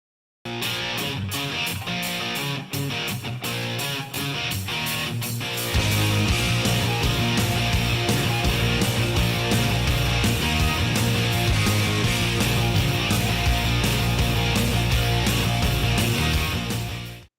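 A hard-rocking glam metal electric guitar riff, the intro to a song, opens with sharp rhythmic stabs before the full band crashes in with driving drums and distorted guitar, loud and dense throughout.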